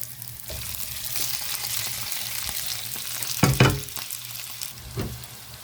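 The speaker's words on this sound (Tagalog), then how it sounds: "Tapos na ako magprito sa talong, ito naman, sibuyas." Chopped onion sizzling and frying steadily in a pan of hot oil used just before for aubergine, with a few louder stirring scrapes and clatters near the middle and end; no talking.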